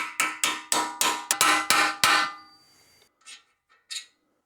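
A sleeve is hammered into a coilover bolt hole on a Subaru WRX. About eight rapid, ringing metal clangs come close together, then a few fainter taps and scrapes.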